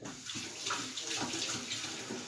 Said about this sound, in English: That's right, we're going to wash our hands.